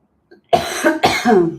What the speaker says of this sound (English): excuse me if I cough a little bit